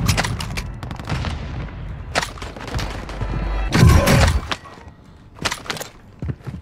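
Bursts of gunfire and heavy booms in Call of Duty Modern Warfare 2, with loud rapid shots, a big thumping blast midway, and sharper scattered shots near the end.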